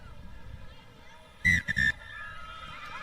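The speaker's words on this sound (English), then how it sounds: "And that is the final whistle" A referee's final whistle ends a rugby sevens match between China and Thailand at the Asia Rugby Emirates 7s Series in Sri Lanka: a short shrill blast, then a second, over faint crowd murmur.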